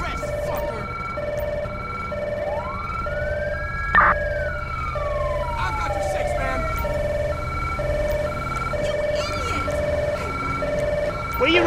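Police siren in Grand Theft Auto V with the LSPDFR mod, a steady two-tone wail cycling throughout with a sweeping whoop layered over it partway, close and loud over game ambience.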